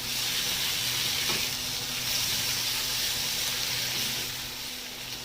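Ginger paste sizzles steadily in hot oil for a Bengali greens curry, a continuous close frying hiss with no talk.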